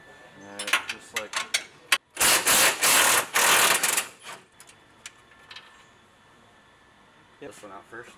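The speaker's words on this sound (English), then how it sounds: "loosen the lower radius rod hardware and remove the lower radius rod" Hand tools working the lower radius rod hardware on a Polaris XP Turbo, with close ratcheting clicks in short bursts and a louder sustained mechanical stretch in the middle, while a person talks over parts of it.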